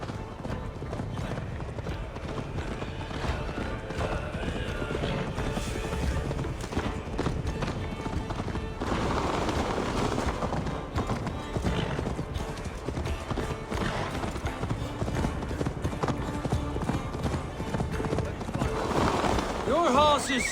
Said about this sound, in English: Best not fall off your horse.